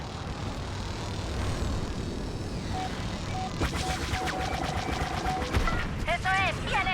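Sci-fi blaster fire crackles in rapid bursts over a steady engine drone, with short electronic tones and warbling laser zaps near the end, from space combat in Star Wars: Squadrons.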